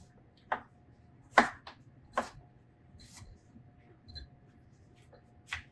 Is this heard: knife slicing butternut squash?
yes